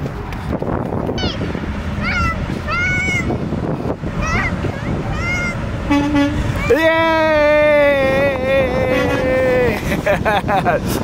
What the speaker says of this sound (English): he honked at you.